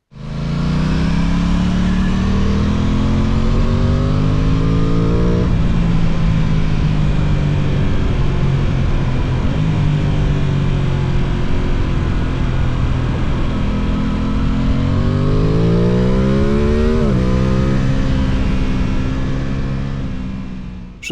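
An Aprilia motorcycle engine revs loudly and close, its tone climbing through rising sweeps, dropping back, then climbing again in a strong continuous howl with layered harmonics.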